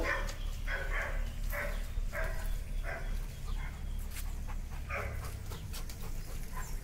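Doberman dog heard fairly close, with rhythmic panting and soft whimpering sounds repeating over a steady low background hum.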